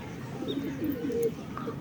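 Pigeons, including a young one circling and struggling to land, near a house; soft, low cooing and faint wingy bird sounds carry steadily for under two seconds, moderately close, with no talk.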